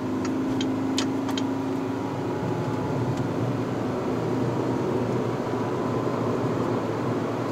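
A 2020 Proton Persona 1.6 Premium CVT pulls away at half throttle. A steady, droning engine note holds at an even pitch, heard from inside the cabin amid road and wind noise.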